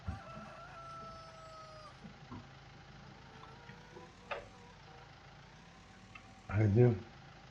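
Chickens and a rooster in the farming game Landwirtschafts-Simulator 19, with soft clucking and a loud crow near the end over a low steady hum and faint background tones.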